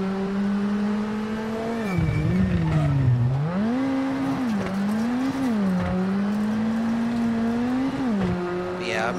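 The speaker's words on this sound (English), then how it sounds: "I'm over slowing the car, trying to get it to turn, and then not getting out of the corner quick enough because just, well, wheel spinning for starters" A rally car in WRC7 revs hard with a high, wavering engine note rising and dipping as the wheels spin through a corner, steady and close throughout.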